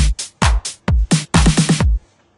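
Punchy electronic drum pattern built in FL Studio, with heavy booming kicks and sharp clap hits in a quick programmed groove, loud and dry before cutting to near silence.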